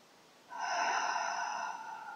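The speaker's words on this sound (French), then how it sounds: "Et puis revenez à une respiration douce, naturelle." One long, audible breath taken close to the microphone during a sophrology relaxation breathing exercise, starting sharply after a short quiet pause and then slowly fading, with no talking.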